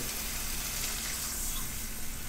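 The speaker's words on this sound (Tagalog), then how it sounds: "Ito po yung 1 tasang tubig." Water from one cup is poured into a cooking pot, making a steady splashing gush that runs continuously for the whole short stretch at moderate loudness.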